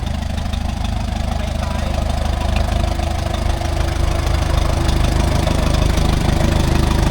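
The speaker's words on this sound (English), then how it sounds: "got our own little tractor parade coming up the driveway here." Several farm tractors, including a Jet 3 Super, rumble along in a small tractor parade up a driveway, their engines chugging loudly and steadily at low speed up close, with no break throughout.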